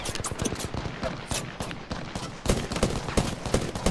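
Rapid SMG fire in a shooter game, a long fusillade of sharp, close, evenly spaced bursts that continues almost without pause and stays loud throughout.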